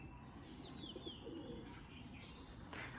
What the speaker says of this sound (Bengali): পায়রাগুলো খুবই দারুণ কোয়ালিটির পায়রা